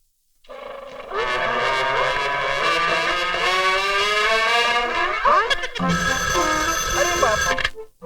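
A telephone ringtone plays loud and close, a sustained melodic electronic tone with shifting pitches, followed by a burst of different tonal notes before it cuts off.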